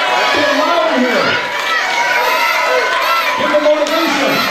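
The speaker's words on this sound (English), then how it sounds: "Cheer them on as loud as you can here." A New Year's Eve party crowd in Ottawa cheers on teams racing through an IKEA assembly challenge, with loud overlapping shouts and whoops, children's voices among them, sustained close and energetic throughout.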